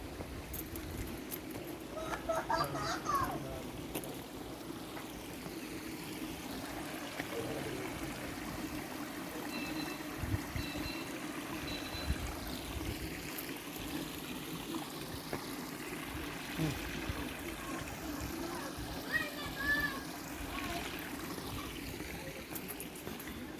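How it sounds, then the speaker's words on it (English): Water gurgles and trickles steadily downhill in Wollongong Botanic Gardens, a soft, continuous babbling that stays fairly faint and close for over twenty seconds. "the different sounds you're getting with the gurgling water on the way down"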